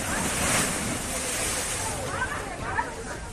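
Swollen Ganges floodwater at Hajipur, Bihar, surges against a crumbling riverbank, a continuous rushing, churning roar of waves with heavy wind buffeting the microphone outdoors.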